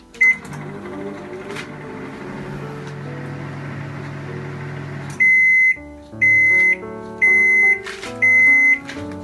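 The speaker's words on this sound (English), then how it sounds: "Now we take this and put it in the microwave." A microwave oven heating mawa hums steadily, then falls quiet and gives four loud, evenly spaced electronic beeps signalling it has finished.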